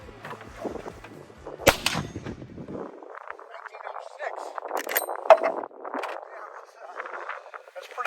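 A .45-70 rifle fires over a chronograph outdoors, one sharp, loud crack standing out near the middle, followed by quieter clatter and handling noises.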